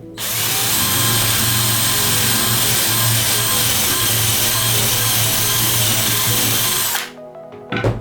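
A KIMO 20V cordless drill driver whines loudly and continuously for about seven seconds while boring a hole, then stops abruptly, leaving a brief quiet rattle.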